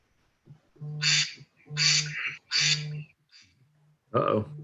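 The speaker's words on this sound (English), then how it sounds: "duck's quacking" A duck quacks loudly and close by, giving three strong harsh quacks in a row, then a softer one and a final quack.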